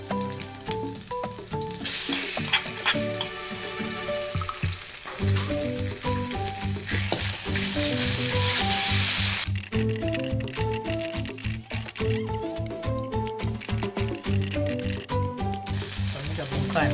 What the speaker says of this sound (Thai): หอมแล้วผมใส่หมูเลยนะครับ